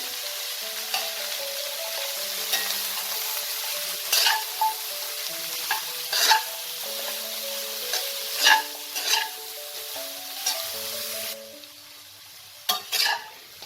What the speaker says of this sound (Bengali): এটা আমি হালকা 1 মিনিটের মতো একটু ফ্রাই করে নিয়েছি।